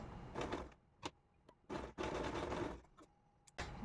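A sewing machine stitches the corner of a fabric tassel piece in short, uneven bursts of quiet mechanical whirring with brief pauses between runs, close but faint.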